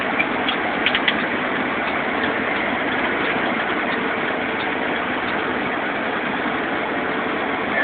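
A truck with a 9-speed transmission hauls a heavy load uphill in 8th gear on a mountain grade, its engine giving a steady, loud, continuous drone with faint ticking, close and without a break, and no talking.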